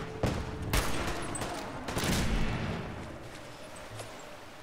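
Explosive hunting rifle fire in Fallout 4: a few sharp, loud blasts with booming tails in quick succession, then fading to a quieter rumble, no voices.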